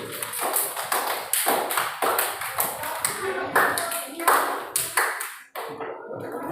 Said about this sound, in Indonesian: kita tepuk tangan untuk kelompok 3 dulu